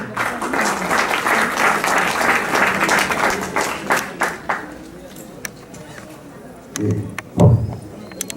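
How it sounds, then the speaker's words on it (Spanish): An audience at a forum claps steadily for several seconds, the applause tapering off into scattered claps, followed by a voice speaking near the end. "Un fuerte aplauso nuevamente para él."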